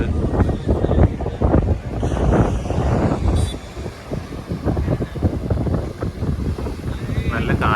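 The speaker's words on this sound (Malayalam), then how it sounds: "നല്ല കാറ്റുണ്ട്." Strong wind at Colachel Beach in Kanyakumari buffets the microphone in loud, uneven gusts, with a voice speaking over the roar.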